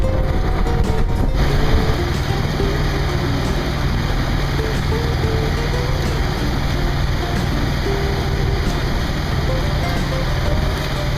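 A sailboat's engine runs with a steady, loud drone, a constant low hum and broadband noise, without a break throughout.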